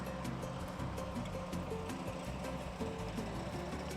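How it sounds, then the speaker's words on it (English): A concrete truck runs close by in a new housing community's backyard in Clermont, Florida, giving a steady, loud low-pitched engine rumble that drones without a break. "They've got a concrete truck over here"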